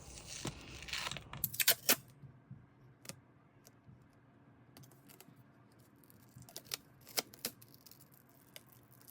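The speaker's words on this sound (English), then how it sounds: "And then cut off the excess." Scissors snip through excess tape wrapped around a plastic Blitzball bat, giving a few sharp, close cuts and rustles up front, then scattered quieter clicks and handling taps in a quiet room.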